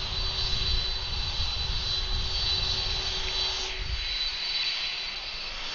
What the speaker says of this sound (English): Here's this big 767-400ER arriving from Orlando.